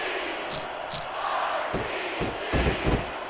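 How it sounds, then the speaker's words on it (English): A crowd in the wrestling video game WWE SmackDown! vs. Raw 2006 roars and cheers steadily, with a few heavy thuds and bursts of noise swelling through the din. "I love hearing the crowd come alive"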